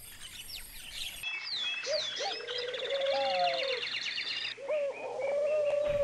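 A flock of forest birds calling in the wild: overlapping chirps, whistles and soft dove-like coos, several voices at once from near and farther off, with a brief drop in the chorus before it picks up again.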